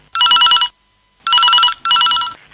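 A telephone rings loudly and close on a radio call-in show, trilling in three short bursts separated by brief pauses.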